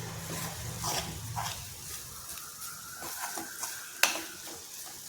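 Spicy Madurai-style garlic chutney sizzles steadily in oil in a pan, with a soft continuous frying hiss, a few stirring scrapes and one sharp clink near the end, with no voices.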